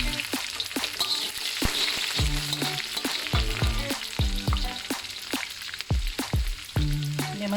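Shallots and garlic fry in hot oil, a steady close sizzle broken by repeated scraping stir strokes of a utensil against the pan.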